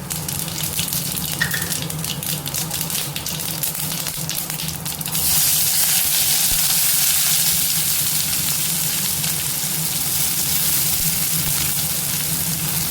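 Mustard seeds and cumin land in hot oil in a kadai, a soft crackle giving way to a loud, steady hiss and sizzle that continues close and unbroken.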